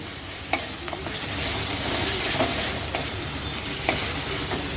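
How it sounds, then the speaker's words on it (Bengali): Spices with turmeric fry in a pan for a catla fish curry, a loud continuous sizzle with scraping stirs and a few sharp clinks of the utensil against the pan. "হলুদ গুঁড়ো দিয়ে ভালো করে কষতে হবে"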